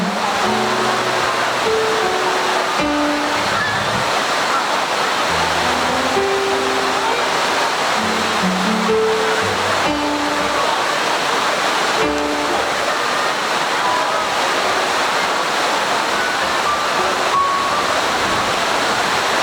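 Heavy rain pours steadily at a high school language-month event, a dense, even roar that fills the whole stretch, with faint tonal sounds drifting underneath.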